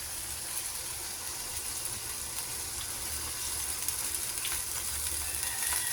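Vinegar and soy sauce hit a hot pan of adobo with loud, close, continuous sizzling and bubbling, steady for several seconds with faint stirring scrapes and no speech.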